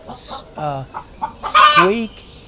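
Backyard chickens cluck and cackle close by in quick, uneven bursts, rising to one louder, drawn-out squawk near the end, with no voices over it.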